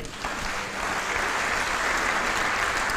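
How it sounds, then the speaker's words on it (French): A church congregation applauding in a steady, dense wash of clapping that holds throughout and swells slightly toward the end, with no other sounds standing out. "Acclame le Seigneur."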